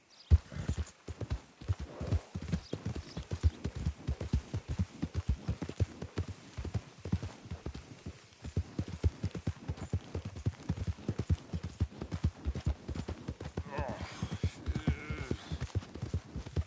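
Rapid, rhythmic hoofbeats of a galloping horse in Red Dead Redemption 2 pound steadily throughout, close and clear, with a brief whinny-like sound near the end.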